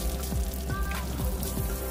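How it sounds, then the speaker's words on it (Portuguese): Water splashed repeatedly against a wall coated with Aqua Zero waterproof paint, a steady spattering patter of drops hitting the surface, fairly loud and continuous with no talk. "Posso jogar água à vontade, ó."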